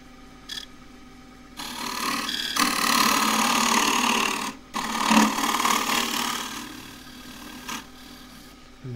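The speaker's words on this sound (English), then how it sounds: "For that I just use a thinner round nose scraper." A thin round nose scraper cuts inside a wooden hollow form spinning on a lathe, giving a steady rasping, scraping tone. It runs in sustained passes broken by short pauses, close and fairly loud, with no talk.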